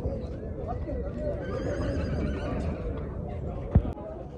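A horse at the Jalal-Abad horse market neighs briefly near the end, one sharp call rising above a steady murmur of crowd noise and nearby talking.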